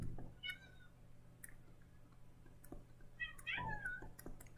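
A cat gives a couple of soft meows a little way off, with faint clicks and light background noise between them.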